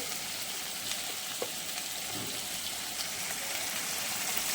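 Shrimp frying in hot oil in a pan, a steady loud sizzle with crackling spits that carries on evenly throughout, with no voices.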